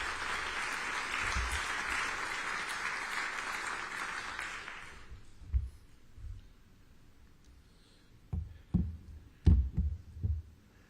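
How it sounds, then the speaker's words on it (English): An audience at a tribute event for a congressman gives a round of applause for a bishop, a dense clatter that fades out after about five seconds, followed by a few scattered thumps and bumps in a quiet room. "now a round of applause, please, for Bishop Troy"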